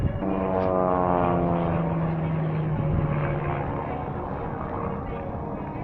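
A propeller training aircraft engine drones steadily at the Warbirds Over Wanaka airshow, a loud, continuous tonal hum that holds throughout, with a commentator speaking over it.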